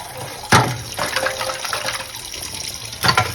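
Running water splashes over goat leg pieces being washed for a Hyderabadi leg soup, with a few sharper splashes and clunks against a steady trickle, close by and without talk.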